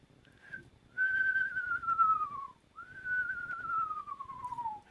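A person whistles two long descending wavering calls, mimicking a screech owl's whinny, close and fairly loud with a pause between them.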